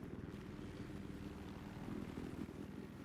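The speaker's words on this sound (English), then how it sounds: "We have the scout helicopter Twigga" Scout helicopter in a Battlefield match, a steady droning rotor and engine hum with dense low pulsing, moderately loud and continuous throughout.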